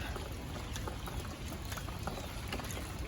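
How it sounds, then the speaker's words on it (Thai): Light rain keeps falling on a flooded farm garden by a duck pen, a faint, even patter with no voices. "ฝนก็ยังตกอยู่นะคะ แต่ไม่หนักเท่าตะกี้"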